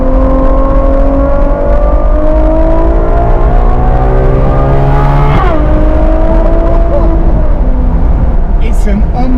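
Ferrari F12 TDF engine revving hard through rising gears, loud and continuous with sharp upshifts and a high racing wail, close by throughout.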